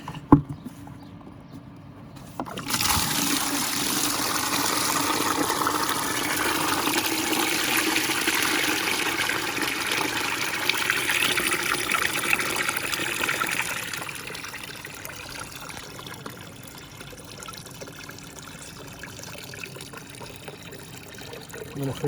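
Dirty carpet-cleaning water is emptied into an outdoor drain grate, a sustained rushing pour lasting about ten seconds that tapers into a softer trickle, close and alone without speech.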